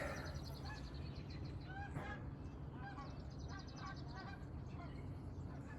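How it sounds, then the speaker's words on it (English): A flock of migrating geese honks overhead, with repeated overlapping calls that come faintly over a steady background rumble outdoors. "I was looking for the gooses, but there they are."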